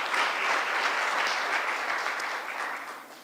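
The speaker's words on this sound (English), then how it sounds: "I think she deserves another round of applause." An audience at a formal justice-sector launch event in Kenya gives a sustained round of applause, a dense, even patter of many hands that holds steady and then eases slightly.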